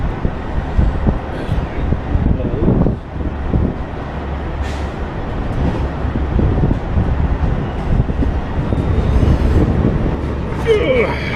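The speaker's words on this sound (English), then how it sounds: "It's windy." Gusty wind at a truck fuel stop buffets the microphone with a continuous low rumbling roar that swells and eases in waves throughout.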